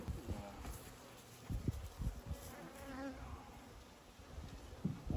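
Bees buzz steadily nearby, a soft continuous drone with occasional louder passes, under faint background rustling and some muffled voices.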